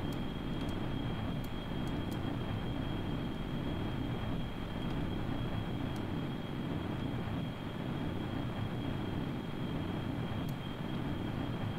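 A player-built airplane flies in Kerbal Space Program, giving a dense, unbroken engine and wind drone that stays loud and even throughout, with a steady high whine above it.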